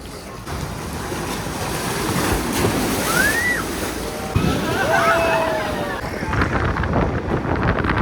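Sea surf rolls in at Nagoa Beach, Diu, as the tide rises, a continuous loud wash of breaking waves mixed with wind rumble and faint distant voices.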